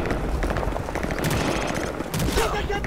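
Rapid machine gun fire in Call of Duty: Modern Warfare 3, dense continuous bursts of close, loud shots with sharp cracks rattling through the whole moment.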